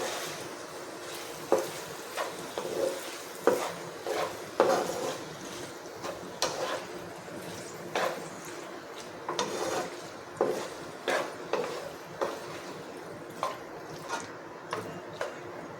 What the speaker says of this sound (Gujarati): બધું જ આપણે સારી રીતે મિક્સ કરી લઈશું.